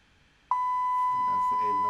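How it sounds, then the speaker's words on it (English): After a moment of quiet, a continuity tester's sharp electronic beep starts and holds as one steady tone, with a voice talking faintly underneath. "Once we toggle the switch, we should get a beep"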